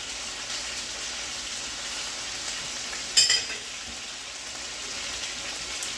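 Garlic-crusted lamb chops fry in a pan with a steady, even sizzle and a brief louder spatter midway, no voices over it.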